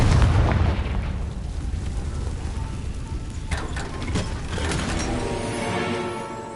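Confringo fire spell explosions in the video game Hogwarts Legacy: a heavy booming blast at the start, then a sustained rumbling wash with sharp crackling bursts, loud and close, with no talking.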